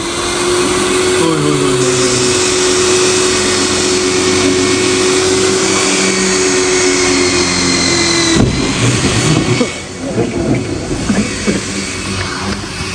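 Power tool cutting through the metal roof of a 2022 Maruti Brezza to fit a sunroof, a loud sustained whining drone for about eight seconds that stops abruptly, followed by scattered clanks and handling noises.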